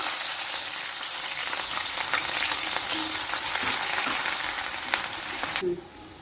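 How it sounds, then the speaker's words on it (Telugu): Chopped onions and green chilies sizzle steadily in hot oil for an Andhra-style chicken curry, a dense continuous crackle holding at even loudness before easing off abruptly near the end. "ఆయిల్ వేడైందండి ముందుగా కట్ చేసి ఉంచుకున్న ఉల్లిపాయ పచ్చిమిరపకాయ వేసుకున్నాం"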